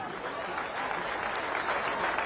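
An outdoor ceremonial audience applauds the joint service color guard at a celebration in Brussels, a dense, sustained wash of clapping from a sizable crowd that swells slightly toward the end.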